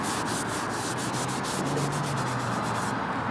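A rag soaked with cleaner rubs briskly back and forth over rubber car trim, close steady scrubbing strokes with a rhythmic swishing pulse throughout, no voices.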